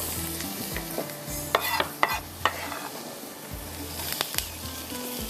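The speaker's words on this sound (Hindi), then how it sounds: "प्याज को आपने ब्राउन कर लेना है, ठीक है, इस तरह से।" Two onions browning in oil in a pan for masala spaghetti, a continuous near sizzle with rhythmic scraping and clattering as a spoon stirs them, loud and alone without speech.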